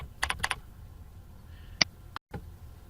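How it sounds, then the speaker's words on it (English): Typing a name on a computer keyboard: a quick burst of several close key clicks, a pause, then a couple of isolated taps and a final keystroke. "And now you're going to type in their name."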